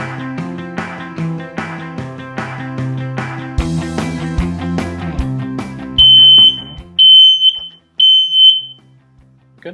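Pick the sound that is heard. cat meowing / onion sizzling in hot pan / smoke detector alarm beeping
smoke detector alarm beeping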